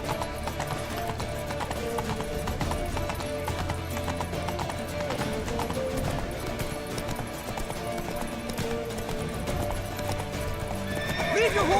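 Horses gallop with rapid clip-clopping hooves and loud neighs and whinnies in The Witcher 3 video game, mixed with shouting voices and the clatter of a chase.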